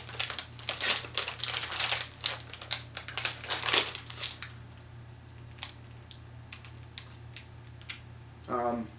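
Crinkly plastic wrapper of a Wonka-Nestle Banana & Vanilla Peel-A-Pop crackles and tears in quick close bursts, then quiets, with a voice speaking over parts of it.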